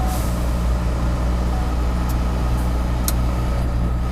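A semi truck idles with a steady low diesel rumble, loud and close, while brief sharp hisses of air brakes being set cut through near the middle of the clip; no one speaks.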